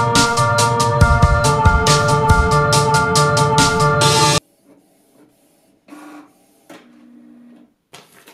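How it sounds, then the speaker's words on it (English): A small home printer printing photos makes loud, close rhythmic mechanical whirring and clacking for about four seconds, then stops, leaving a few quieter clicks and shuffles. "I don't really have a great printer."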